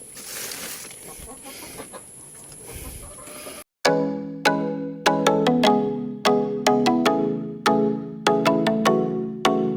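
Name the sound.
hens clucking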